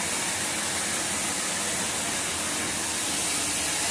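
A cocoa butter press runs in a bean-to-bar chocolate production room, giving a loud, steady, unbroken hiss and whir that holds constant throughout.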